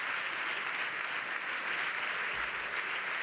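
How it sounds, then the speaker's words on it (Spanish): Prolonged applause from the benches of a parliament chamber during a censure motion debate, a steady distant wash of clapping with no voices over it. "Suena de manera prolongada el aplauso en las filas socialistas para el presidente del Gobierno"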